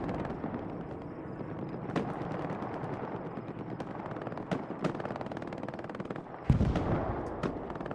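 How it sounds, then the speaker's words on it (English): In Hell Let Loose, a Panzer IV pounds a strong point with HE shells: sharp blasts crack out irregularly over rattling battlefield gunfire, with one heavier, louder explosion near the end. "that Panzer IV that's just pounding the strong point with HE"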